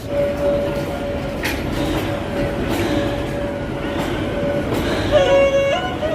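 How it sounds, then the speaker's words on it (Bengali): A train pulls out of Shimla railway station, a steady rumbling roll with a sustained high squeal of wheels on rail, brief clanks and rising screeches near the end. "স্টেশন থেকে ট্রেনটি বেরিয়ে যেতেই আমরাও চললাম স্টেশনের বাইরে"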